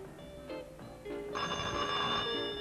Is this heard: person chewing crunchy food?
no